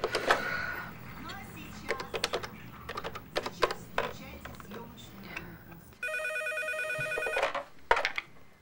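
A telephone rings in a domestic scene, its repeating electronic trill standing out clearly near the end after a stretch of tapping and clattering sounds, with voices talking in the room.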